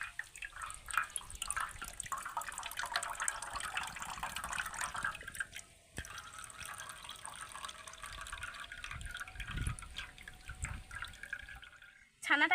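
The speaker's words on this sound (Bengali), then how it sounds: "এইভাবে আলতো হাতে ওপর থেকে চাপ দিয়ে ছানার জলটাকে বের করে নিতে হবে" Water pressed gently by hand out of freshly made chhena (cottage cheese) for sandesh, giving a soft continuous trickle and drip over about twelve seconds, with a brief pause near the middle and a sharper sound at the very end.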